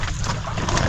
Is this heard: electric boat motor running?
yes